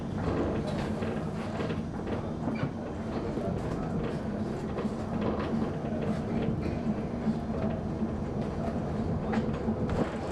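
An MXA railcar pulls into a station in Budapest, a steady loud rumble of wheels and running gear with faint clicking and rattles throughout.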